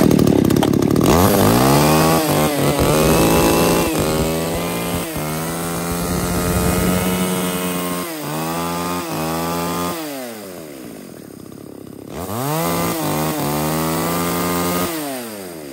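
A small Japanese long-handled chainsaw engine fires up and runs loudly close by, revving up and down repeatedly between higher whines and lower idling.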